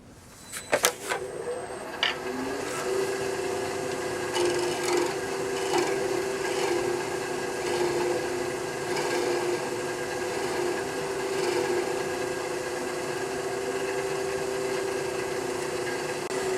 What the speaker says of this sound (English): As I was making that cut, using a little bit of a fingernail grind on a fingernail gouge